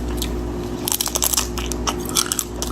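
Close, crisp crunching and chewing of a blue raspberry fruit roll-up filled with strawberry ice cream, a run of irregular bites and crackles over a steady low hum, with no speech.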